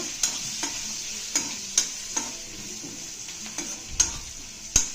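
Curry leaves and pepper powder fry in oil, giving a steady sizzle with a handful of sharp stirring clicks and taps of the utensil against the pan, close up.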